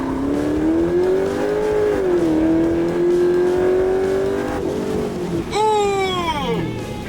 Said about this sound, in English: the car does this weird thing where if you shut it off and turn it on, it rev limits like that